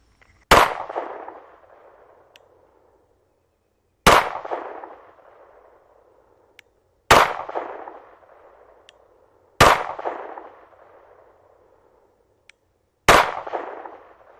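Five loud, sharp pistol shots from a PSA 5.7 Rock chambered in 5.7x28, spaced a few seconds apart. Each crack rings out with a short echoing decay, and no voices are heard.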